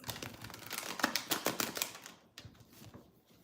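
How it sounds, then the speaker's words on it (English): Tarot cards shuffled by hand during a reading give a rapid, papery flutter and clicking for about two seconds, then a quieter, sparser rustle. "So I'm shuffling one more time."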